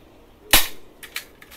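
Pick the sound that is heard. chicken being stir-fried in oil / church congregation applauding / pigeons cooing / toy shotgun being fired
toy shotgun being fired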